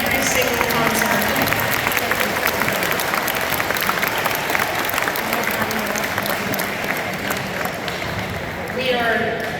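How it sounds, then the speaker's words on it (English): A school band concert audience gives steady, loud applause that continues for nearly ten seconds, with crowd murmur and voices mixed in. "So if you guys could give them a huge round of applause for coming in every single concert."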